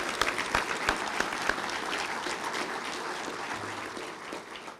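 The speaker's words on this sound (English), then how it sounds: "let's give her another round of applause." An audience at an annual meeting claps steadily in sustained applause, a dense, even patter of many hands that holds at a moderate level without any speech over it.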